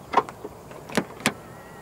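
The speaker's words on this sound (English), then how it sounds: "To lock the car, press the button on the driver's side door handle." A few quiet clicks and a couple of brief mechanical thunks as a 2023 BYD Atto 3 locks via the keyless button on the driver's door handle, sparse and close.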